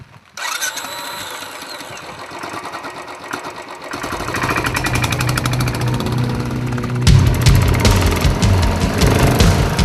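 A Royal Enfield Bullet's 499cc single-cylinder four-stroke motorcycle engine runs with a rapid, steady thumping that grows louder and heavier around four seconds and again near seven seconds, close and continuous with no talk.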